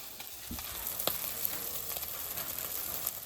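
Oil sizzles steadily in a frying pan on a Bengali home stove after prawns have been fried, with a few sharp crackles and pops over a constant hiss.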